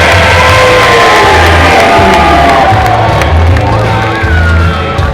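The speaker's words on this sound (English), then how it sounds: "Come on, you can yell, you can scream." Loud crowd cheering and yelling at a professional bass fishing championship weigh-in on Lake Guntersville, a dense continuous roar of shouts and whoops with a steady low rumble underneath.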